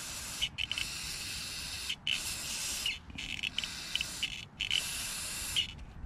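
Lucas Oil carb cleaner is sprayed in a series of short hissing bursts, about five or six, onto the rusty carburetor of a Troy-Bilt Storm 2620 snowblower with a 208cc Powermore engine, close and fairly quiet with brief gaps between bursts.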